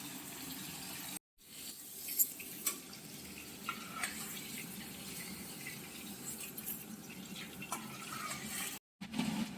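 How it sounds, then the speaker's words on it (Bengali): Paneer cubes fry lightly in a little oil, giving a soft, steady sizzle close by with faint stirring scrapes, and two brief silent gaps. "পনিরটা খুব সুন্দর করে ভেজে নেওয়া হলো হালকা বেশ"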